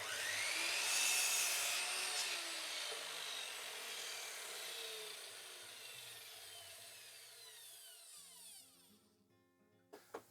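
A handsaw cuts through timber close to the end of a board, giving a steady rasping stroke that gradually fades, followed by a couple of sharp knocks at the finish.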